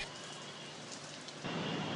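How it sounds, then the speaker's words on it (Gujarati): Rain falls over Ahmedabad city as a faint, steady hiss that grows slightly louder partway through, with no one speaking. "લાંબા સમયના ઉકળાટ બાદ આજે વરસાદે ફરીથી અમદાવાદ શહેર પર પોતાની મહેર કરી છે."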